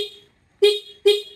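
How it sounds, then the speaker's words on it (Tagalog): Three short honks from the stock horn of a Yamaha Aerox 155 scooter, a longer first blast followed by two quick bursts, loud and close with brief gaps between. "Yan yung tunog sa stock horn."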